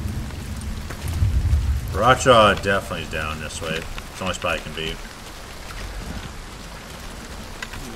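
Steady patter of rain hisses throughout in the video game Hunt: Showdown while someone talks over it.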